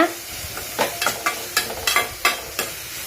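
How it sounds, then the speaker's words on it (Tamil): Onions sizzle in a hot pan while a utensil stirs them, producing repeated scraping clacks about every half second over a soft frying hiss. "நல்லா போட்டு நல்லா வதக்கி விடுங்க."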